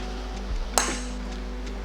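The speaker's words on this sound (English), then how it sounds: "I'm gonna give it a little smack." One sharp metallic hammer strike on a stud in a Volkswagen GTI engine rings out close by over a steady low hum, decaying quickly.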